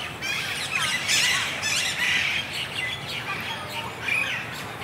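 Many Alexandrine parakeets in a park screeching together in a noisy, steady chorus of harsh squawks and chirps, fairly close and constant throughout.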